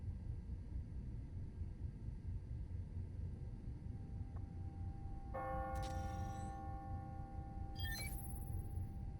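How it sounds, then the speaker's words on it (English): Faint church bells from the video game Marvel's Spider-Man: Miles Morales ring on the hour over a low, steady rumble, two separate strikes with shimmering overtones that linger and fade. "Oh, the church bells."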